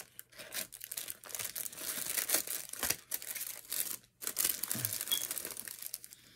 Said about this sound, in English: I think you gotta cut the pack open.